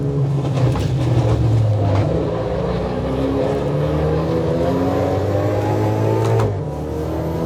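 A simulated electric front-wheel-drive car in the Assetto Corsa EVO racing game gives off a steady synthetic whine with rising and falling tones, loud and continuous with no voices.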